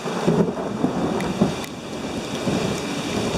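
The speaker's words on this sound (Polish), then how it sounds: "pioruny nawalają" Rain pours steadily while low thunder rumbles and rolls through the background, with a few sharper cracks and no voices.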